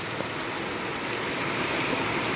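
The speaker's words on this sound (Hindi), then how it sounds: "काफ़ी मोटी बारिश हो रखी है और हल्की हल्की धूप भी है बारिश के साथ साथ" Heavy rain falls steadily on an evening with sunshine still breaking through, a loud, unbroken wash of noise with no voices.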